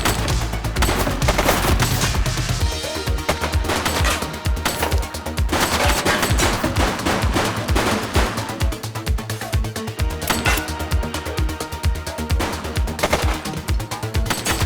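Heavy gunfire from a police shootout in The Precinct on PS5: dense, continuous bursts of automatic shots and rapid single cracks fill the whole stretch, loud and close with no pauses.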